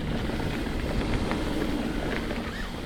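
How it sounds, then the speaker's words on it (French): A DJI Neo 2 drone flies close behind a mountain bike trail rider, its steady whirring rotor drone continuous and fairly loud over wind noise, with no talk. "J'ai le drone derrière moi."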